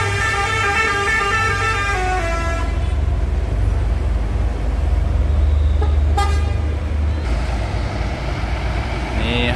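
A bus departs from a bus terminal with a loud, continuous engine rumble, opening with a sustained, tonal horn toot that fades after a couple of seconds, then a sharp click amid the droning traffic.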